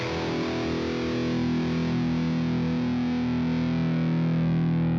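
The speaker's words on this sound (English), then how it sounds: "if I want to get a metal sound" A high-gain metal guitar tone through a distortion effects unit, one dense sustained chord ringing steadily and loud with a thick buzzing texture for the whole stretch, no voice.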